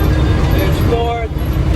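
Old 1946 Ford Woodie pulling in fifth gear on the road, a steady loud engine and road drone throughout with a voice talking over it.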